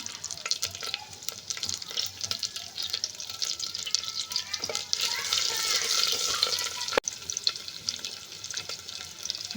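Green chillies and curry leaves fry in hot oil with cumin and mustard seeds, a dense crackling sizzle with busy clatter and stirring, one sharp knock near the end.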